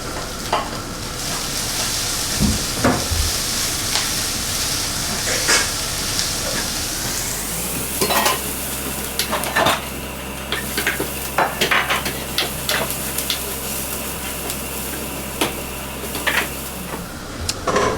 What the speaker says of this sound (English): So the ginger and garlic will go in.